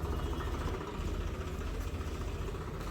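A tractor engine runs steadily at a village night event, giving a continuous low, rough rumble with dense vibration, loud and close, without clear changes in pace and no speech.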